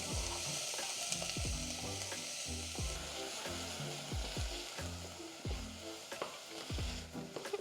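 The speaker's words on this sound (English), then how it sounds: "We're gonna go ahead and add in our onions." Onions fry in a thin coat of oil in a pan for homemade currywurst, a soft, constant sizzle broken by regular scraping stirs, fairly quiet and with no talking.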